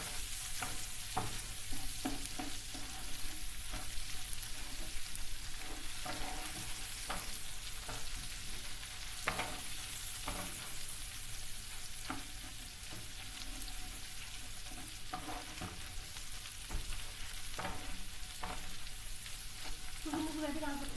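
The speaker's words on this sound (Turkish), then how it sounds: "Bunu da güzelce kokusu çıkana kadar kavuralım." Tomato paste fries in a hot pan, giving a steady close sizzle with small crackles and occasional stirring scrapes throughout.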